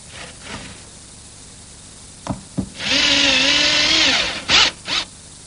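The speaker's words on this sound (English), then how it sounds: "a number 6 by 1 1/4 screw that I'm putting in a pre-drilled hole" Cordless drill driving a No. 6 by 1-1/4 inch square-drive screw into a pre-drilled, glued wooden butt joint: two quick blips, a sustained rising whirr of about a second, then two short final bursts, close and loud.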